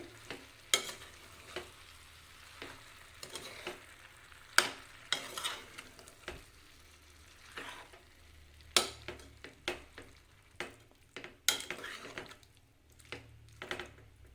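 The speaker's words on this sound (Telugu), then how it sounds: "వంకాయ టమాటా అంతా బాగా కలిసేలాగా కలుపుకోవాలి" A spoon stirs eggplant and tomatoes in a pan over a soft sizzle, with irregular clacks and scrapes coming in quick clusters, close and fairly quiet.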